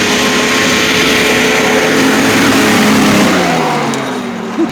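A 1974 Johnson 440 outboard engine running on a boat, a loud sustained motor drone with shifting pitch, slightly uneven and rough in tone, easing off near the end, no talk.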